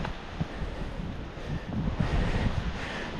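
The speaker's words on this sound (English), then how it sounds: "Wind's picking up." Wind gusting on a mountain hiking trail, a steady broadband rush with rumble buffeting the microphone, strengthening toward the end, no voices.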